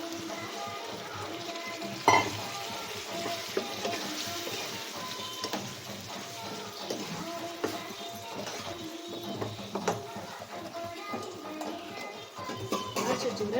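Boiled chickpeas for sundal tossed into a hot pan with salt and stir-fried, with a steady sizzle under repeated scraping and clattering of a spatula, plus one sharp knock near the start.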